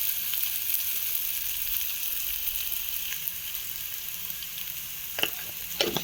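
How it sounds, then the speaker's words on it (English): Steady sizzling of onions frying in a hot pan, a continuous crackling hiss with a couple of sharper stirring scrapes near the end. "frying onion."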